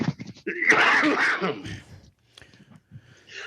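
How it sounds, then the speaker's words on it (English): A single throaty cough or throat clearing, close and loud, followed by a few quiet breathy sounds. "Sorry, I'm going to cough real quick."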